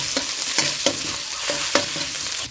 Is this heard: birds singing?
no